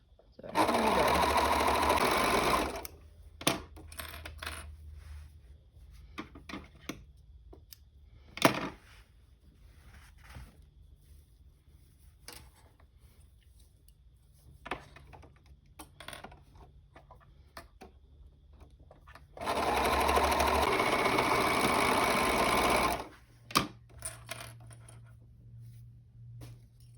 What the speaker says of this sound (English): My overlock is just a Singer Ultra Lock, and I've had it for years.